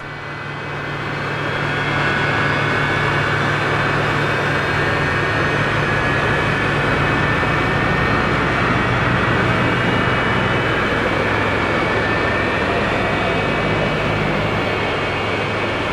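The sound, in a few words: F-104 Starfighter jet engine spooling up, X-Plane 12 video game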